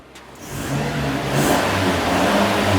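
A 2022 Toyota Hiace van engine with stock exhaust revs up from idle and holds a steady, smooth mid-pitched drone, close by and moderately loud.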